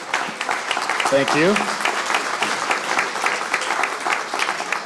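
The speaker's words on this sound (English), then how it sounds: "So all of these teammates deserve an incredible round of applause." An audience at a Kalamazoo 2035 kick-off presentation applauds the team members, sustained clapping from the room while a voice briefly speaks over it.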